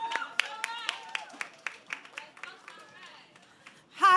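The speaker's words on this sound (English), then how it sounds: "Keep clapping until they get here." Audience at a family festival clapping in scattered, distinct claps with short gaps, fairly close, while people talk over it and a louder voice cuts in at the end.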